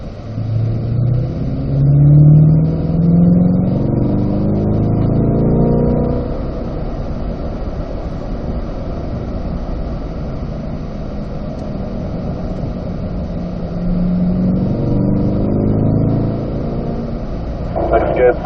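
Chevrolet Corvette C8 race car on a hot lap around a racetrack at a driving school, its engine a steady loud in-cabin roar that swells near the start and again toward the end, with a driver talking over it throughout.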